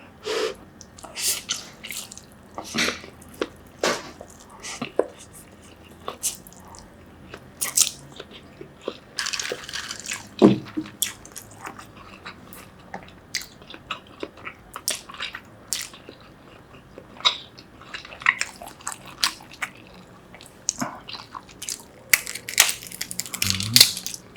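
Close-up chewing of grilled shrimp and spicy noodles, with repeated crunchy bites into shrimp shells and heads, wet squishing and slurping between irregular loud crunches, and no talk.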